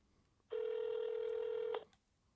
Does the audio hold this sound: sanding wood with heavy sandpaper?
no